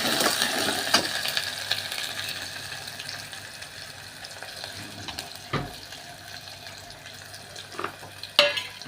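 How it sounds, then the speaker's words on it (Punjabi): Garlic dropped into hot, steaming oil gives a steady broadband sizzle, with a few louder sputters and scrapes toward the end and no voices. "ਹੁਣ ਤੇਲ ਗਰਮ ਹੋ ਗਿਆ ਹੈ ਤੇਲ ਦੇ ਵਿੱਚ ਭਾਫ ਨਿਕਲਣ ਲੱਗੀ ਹੈ ਤਾਂ ਆਪਾਂ ਇਸ ਦੇ ਵਿੱਚ ਸਭ ਤੋਂ ਪਹਿਲਾਂ ਲਸਣ ਪਾਵਾਂਗੇ"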